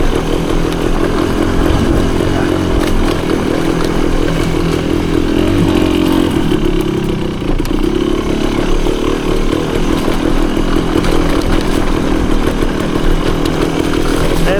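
A 1974 Honda MT250 two-stroke enduro motorcycle is ridden through the woods, its engine a loud, close, continuous buzzing drone that holds steady throughout.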